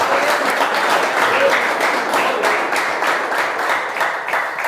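A church congregation applauds for Jesus during a Portuguese-language worship service, steady dense clapping filling the room at an even level throughout, with voices faintly mixed in.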